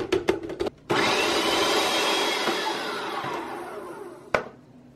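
A food processor whirs loudly and steadily for several seconds as it blends grain-free chocolate-chip cookie dough with honey and vanilla, preceded by a few clicks and ending with a sharp knock as the motor winds down.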